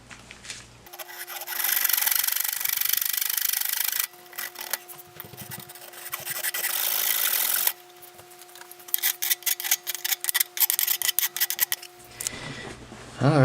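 Cutting a small piece out of a Stax headphone panel with a hand tool, sustained rasping and sawing strokes up close, then a run of quick repeated scrapes, with a faint electrical hum underneath.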